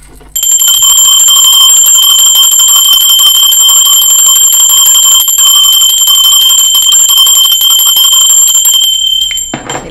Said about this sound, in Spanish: Me encanta cuando la campana está así fuerte.